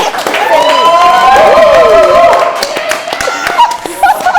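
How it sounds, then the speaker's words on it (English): A studio audience at a live talk show breaks into applause, with clapping and some cheering swelling through the first half and then thinning out while people talk and laugh over it. "Give them a round of applause."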